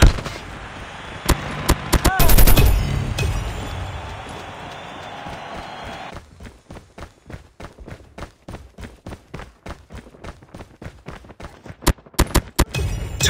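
Gunfire in a Call of Duty Mobile team deathmatch on the Favela map, an early loud burst followed by a long run of rapid, evenly spaced automatic shots and a few final sharp cracks.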